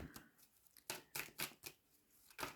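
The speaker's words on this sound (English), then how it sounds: "it's making me shuffle a lot more for this one" Quiet, crisp snaps of tarot cards being shuffled in a loose irregular rhythm, faint and close, with no voices.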